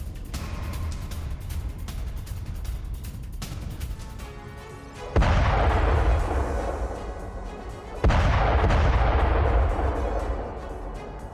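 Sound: artillery fire during Ukrainian attack on Russian convoy

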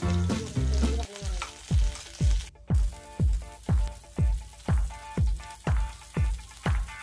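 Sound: garlic and curry leaves sautéing in hot coconut oil

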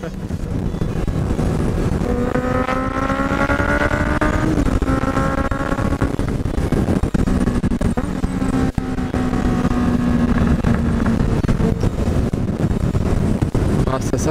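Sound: many four-cylinder motorcycles riding together on a mountain road

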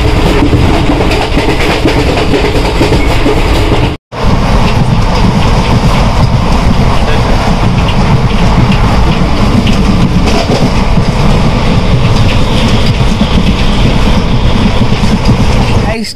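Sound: Chamrajnagar Express train running on the tracks

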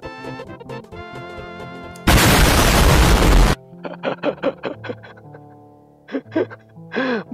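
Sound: bomb explosion in the video game Warnet Life 2

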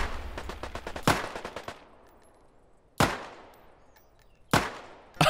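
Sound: gunfire in a survival video game firefight

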